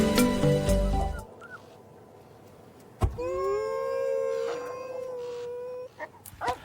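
A dog howls in a long, wavering, mournful tone that rises and then holds steady for several seconds, preceded by a short burst of other noise and followed by brief whimpering sounds, with no talking.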